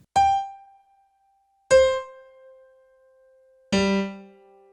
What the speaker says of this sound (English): they are going to resonate these keys right here